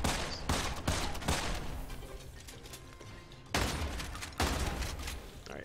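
Shotgun blasts in the first-person shooter Immortal Redneck, loud booming shots repeated in a steady series, each with a sharp attack and a decaying tail, with no talk.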